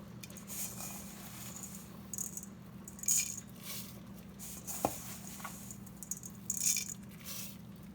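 Two cups of washed rice go into a cooking pot for Jamaican gungo peas and rice, a soft grainy rattle and patter with a few sharper clinks over a low steady hum, no voices.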